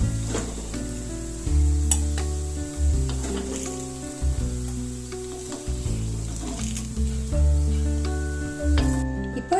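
Banana sweet balls deep-fry in hot oil with a continuous bubbling sizzle, largely overlaid by loud background music.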